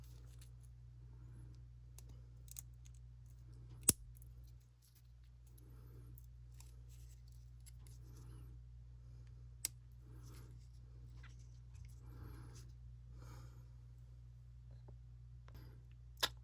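Small plastic retaining clips snapping onto an M.2 SSD heatsink for a PS5 storage expansion, with a few sharp isolated clicks standing out against a quiet steady background hum and faint handling rustle, close by, with no speech.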